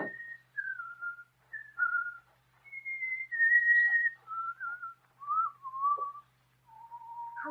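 A man whistles a wandering tune outside a gate, clear and close, in a run of separate sustained notes and short slides with brief pauses between phrases and no talk.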